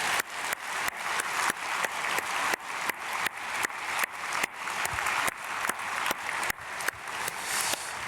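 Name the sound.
congregation applauding in church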